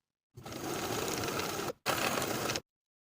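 Sewing machine stitching buttonholes on a waistband for elastic-waist women's pants, two close, loud bursts of continuous whirring separated by a brief pause.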